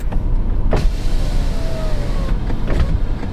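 The passenger-side power window of a Ford Escape runs with a steady electric motor whir over about three seconds, close inside the cabin, with a couple of clicks around it.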